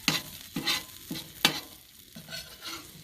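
Green chile cheeseburgers cooking on a 270 GS smoker over Royal Oak natural briquettes, with close, rhythmic scraping bursts roughly every half second over a faint continuous sizzle.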